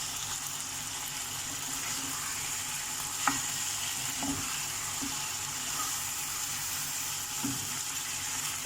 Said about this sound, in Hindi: तो अभी चिकन का हम भुनाई करते हैं।